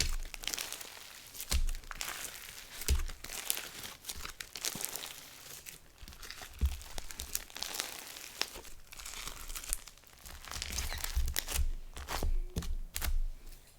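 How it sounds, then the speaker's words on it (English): Crisp, crackly crunching and squishing sounds come in repeated bursts up close as slime packed with silica and sand is pressed and pulled, with no voices. "I think the sand gives it like a crispy element, and then the silica gives it a crunch."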